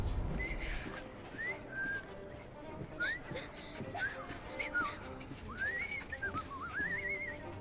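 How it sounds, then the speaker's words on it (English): A man whistles a series of rising and falling melodic phrases in Assassin's Creed Syndicate, set against a steady bed of street ambience with faint hoof-like clatter underneath. "I've just learned to whistle."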